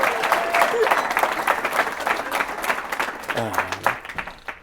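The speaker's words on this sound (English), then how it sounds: "Can we please, friends and family, give a round of applause to Nicole friggin' Lamontagne?" Wedding guests clap and cheer for the bride, a close, lively burst of many hands with whoops and a voice or two rising through it, the applause thinning slightly toward the end.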